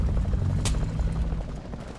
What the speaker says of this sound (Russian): Я слышу этот двигатель вертолета.